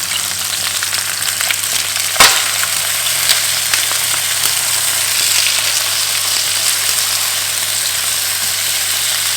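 Flipped pieces of food sizzle steadily in a frying pan on a home stove, a close, constant crackling fry with a sharp clatter of the turn near the start and small pops throughout.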